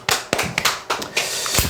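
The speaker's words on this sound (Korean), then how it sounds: "박수 한번 치시죠" A few people clap hands briefly in a small room, a short loose run of sharp, close claps with uneven rhythm and no talk.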